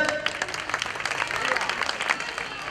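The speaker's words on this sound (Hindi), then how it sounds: "इनकी हिम्मत के लिए जोरदार तालियां।" An audience at a coaching-class certificate and award ceremony in Cheeta Camp claps loudly, a brisk, uneven patter of many hands, fairly close and continuous throughout.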